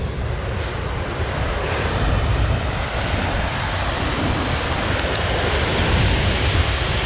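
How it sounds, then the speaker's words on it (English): Broad steady roar of water rushing over the top of a waterfall on a winter day, continuous and fairly loud with no voices, a constant wash of noise from close by. "Now I'm going to walk over to the top end of the waterfall right now"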